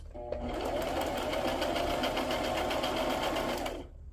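A sewing machine stitches paper in one steady, fast whirring run of about three seconds, close and loud, starting and stopping cleanly.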